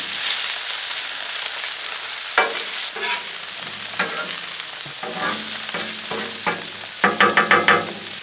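Steak sizzles on a Blackstone flat-top griddle with mushrooms, a steady close frying hiss broken by scraping and clacking of a metal spatula, ending in a quick run of taps.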